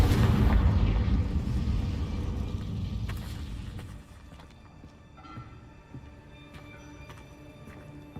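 A Confringo blasting spell explodes in a Harry Potter video game: a loud, deep rumbling blast that rolls and slowly fades into quieter ambient game sounds, with faint scattered clicks and chimes afterward.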